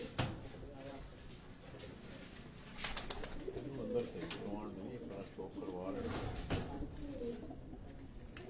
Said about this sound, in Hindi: ये परवाजी कबूतर है उनका